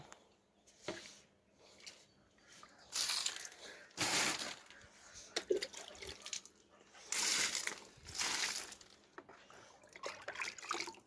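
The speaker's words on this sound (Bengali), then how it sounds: "আমি আমার ফুলের চারাগুলোতে পানি দিচ্ছি" Rose and other flower seedlings are being watered, giving repeated bursts of splashing and pouring water that rise and fade in an uneven rhythm, close by with no talking.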